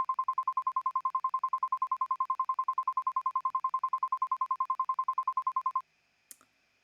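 A phone's dialing tone beeps rapidly and evenly in a long steady run, clean and synthetic, as in a visual novel video game, then stops, followed by a single faint click.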